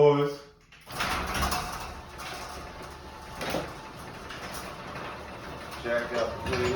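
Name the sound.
sliding doors being slid open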